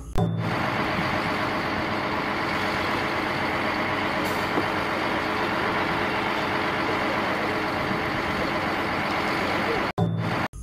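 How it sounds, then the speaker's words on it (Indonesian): A concrete mixer truck produces a loud, steady engine roar with a broad rumbling wash of noise that continues unbroken for about ten seconds before cutting off briefly near the end. "Yang ini namanya truk molen."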